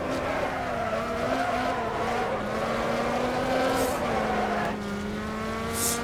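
Race cars in the video game Wreckfest roar at high revs, with pitch rising and dropping through gear changes and brief tire squeals, loud and continuous and with no voices.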